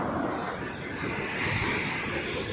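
Large sea waves rolling and breaking off a fishing coast in Naic, Cavite, a steady broadband roar of surf mixed with wind buffeting the microphone, continuous and fairly loud with no clear breaks.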